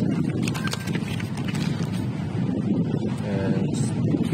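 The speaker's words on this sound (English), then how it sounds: "It is windy here." Gusty outdoor wind buffets the microphone, a constant low roaring rumble with irregular bursts that masks most other sound, close and fairly loud throughout.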